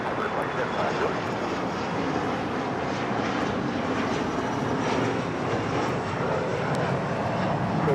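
Jet airliner taking off from runway 25 left at Los Angeles International Airport, a loud continuous broadband engine roar heard from nearby, steady and sustained throughout.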